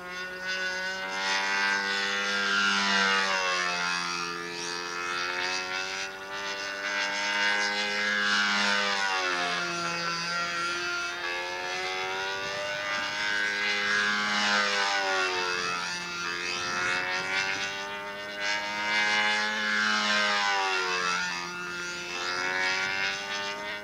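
Electric motors on a model B-25 airplane, flown on a windy day in 2003, whine steadily with rising and falling pitch sweeps as the plane passes, loud and sustained throughout with no talking.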